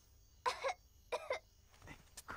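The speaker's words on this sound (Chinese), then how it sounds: "这咳嗽声" Staged coughs in a Chinese opera scene from Romance of the Western Chamber: a few short, sharp bursts spaced about half a second apart, close and fairly loud against a quiet background, with no talking.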